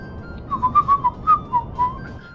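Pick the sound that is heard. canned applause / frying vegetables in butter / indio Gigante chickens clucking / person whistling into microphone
person whistling into microphone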